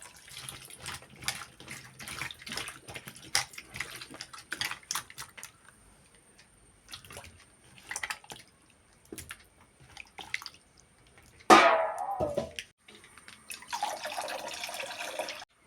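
Malabar tamarind is washed under a tap, water running and splashing intermittently, with a louder burst of rushing water near the end, then a steady stream.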